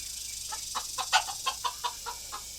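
Backyard hens and roosters in a garden coop give a string of about nine soft, quick clucks at an uneven pace, moderately close over a quiet, steady background hum.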